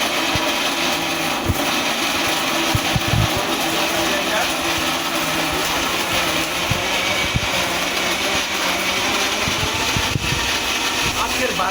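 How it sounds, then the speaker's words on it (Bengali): A kitchen blender whirs steadily for the whole stretch while a beef-chicken kabab burger filling is blended, a loud continuous motor drone with dense broadband noise and small irregular bumps. "এভাবে এখন আমরা ব্লেন্ডারটি স্টার্ট করছি"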